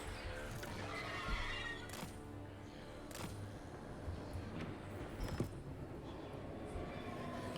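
Horses in the strategy video game Total War: Warhammer 3 neigh and whinny repeatedly over clattering hooves and a busy battle ambience, with a few sharp cracks along the way.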